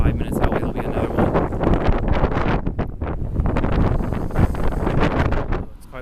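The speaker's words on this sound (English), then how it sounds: "Oh, it's quite windy." Strong wind buffeting the microphone on a Japanese residential street near Keio in midsummer, a continuous loud rumbling roar with gusty swells throughout.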